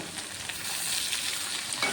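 Ivy gourd sautés in oil with no water added, a steady soft sizzle and crackle heard close, with faint stirring and no voices.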